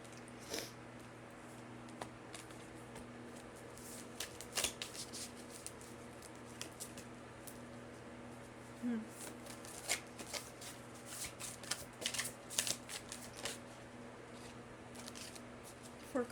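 A deck of tarot cards is shuffled close by in a quiet room, with soft papery riffles and slaps arriving in irregular bursts over a faint steady background hum.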